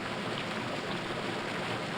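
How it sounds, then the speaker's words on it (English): Waterfall in Dread Delusion, a constant broadband rush of falling water, steady and fairly faint, with no other sounds. "Is there anything behind this waterfall?"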